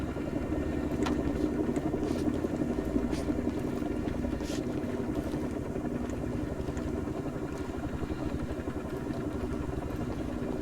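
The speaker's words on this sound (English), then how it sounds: "Chopper loud." A helicopter in Arma 3 makes a loud, steady rotor and engine drone with a fast chopping pulse that holds for the whole stretch, with no voices over it.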